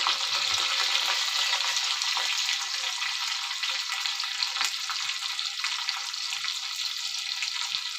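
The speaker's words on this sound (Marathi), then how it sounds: "आता मिरच्या टाकते, मिरच्या आणि कढीपत्ता." Green chilies and curry leaves hiss and sizzle loudly in hot oil for a ragi dhokla tempering, a steady bright frying crackle right up close that runs the whole time without any voice.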